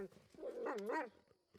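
A wolf whimpering in the Pathfinder: Kingmaker role-playing game, a wavering, rising-and-falling whine lasting about a second before fading into near silence.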